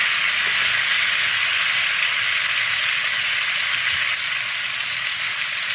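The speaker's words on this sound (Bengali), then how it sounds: "আমি না ঢেকেই ভাজবো" Loud, even sizzle of cauliflower frying in an open, uncovered pan, a constant crackling hiss with no talking.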